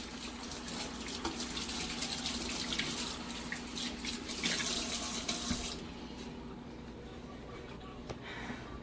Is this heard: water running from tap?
yes